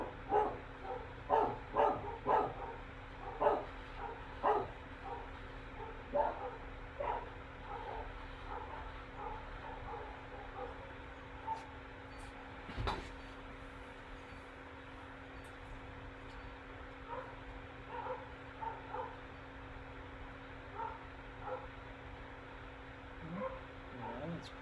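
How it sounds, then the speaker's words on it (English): Several dogs bark in quick repeated volleys to greet someone arriving home, loud and clustered at first, then thinning to scattered yips and barks at a moderate distance. "so dogs are probably greeting her"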